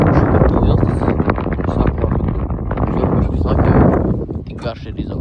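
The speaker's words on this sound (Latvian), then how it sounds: "Vējš ir bišķi pacēlies." Wind gusts across Lake Babīte during pike fishing, buffeting the microphone with a loud, continuous rumble. Speech is mixed in, and the wind eases slightly near the end.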